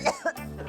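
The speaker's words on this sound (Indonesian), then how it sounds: "Enggak, batuk." A woman gives two quick, close coughs, a short harsh double burst followed by a faint breathy tail.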